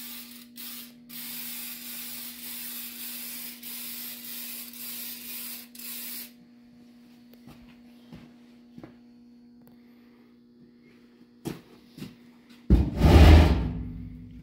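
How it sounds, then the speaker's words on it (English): An aerosol can hisses in several bursts as silver spray is applied to a cow over a leak spot, with a steady mains hum beneath, a quiet gap, then louder handling thumps near the end. "I'd spray her around where we know the leak was."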